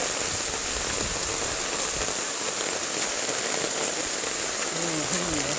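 Steady rain falls on surfaces in rural Narsingdi, an even, dense hiss of drops continuing throughout, close and fairly loud, with no talk.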